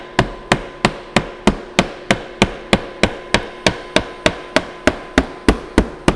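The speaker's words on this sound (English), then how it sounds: "let's try this again with a real hammer" Steady, evenly spaced hammer blows ring out about three times per second, close and loud, while steel rollers for a steel mill are worked on a manual machine; each sharp metallic strike decays quickly before the next, with no voices.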